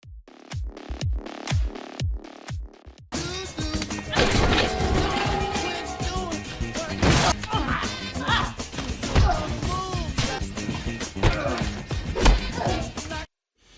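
Film fight scene with crashes of furniture being smashed, a string of sharp separate hits at first, then a dense loud stretch of bangs, thuds and clatter layered with music and voices.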